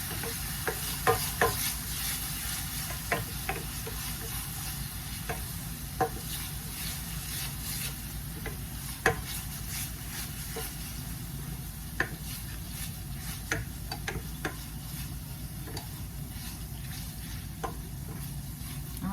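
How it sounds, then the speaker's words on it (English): Sweet peppers, onions and garlic sautéing in oil, tossed in the pan with a continuous soft sizzle and scattered spoon scrapes and taps, close and moderate in level, no voices. "I'm going to toss this around in the oil for about a minute."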